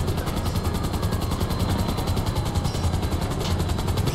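A helicopter in a video game whirs with a rapid, regular thump of rotor blades over a dense, steady engine roar, heard alone and close throughout.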